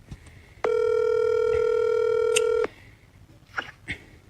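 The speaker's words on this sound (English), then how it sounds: "So I'm about to call Lauren mama and I'm about to really find out what happened." A telephone dialing tone sounds loud and steady for about two seconds, followed by a few faint, brief clicks and beeps of number keys being pressed.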